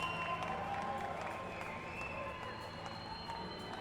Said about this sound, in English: the crowd applaud their lifter from Brazil, Evanio da Silva